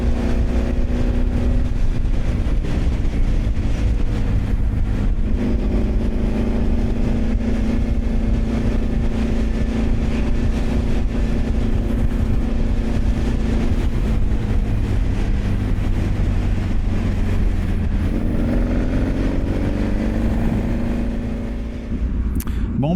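A Yamaha XTZ 750 Super Ténéré motorcycle cruises along a road near Caen, its engine droning steadily and loud with heavy wind rush, pitch shifting slightly as speed changes, no talking.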